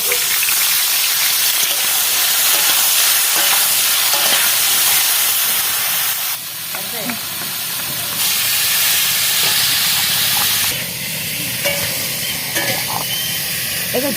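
Oil poured into a hot pan for a Bengali potol jhal (pointed gourd curry), giving a loud, steady hiss and sizzle that runs the whole time, with brief stirring clinks and slight shifts in intensity, no talking.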